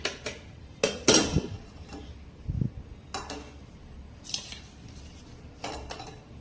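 Buttermilk spice masala sifted through a metal sieve into a bowl: sharp, scattered metallic clinks and taps of the sieve against the bowl, several separate knocks spread out over quiet scraping and shuffling.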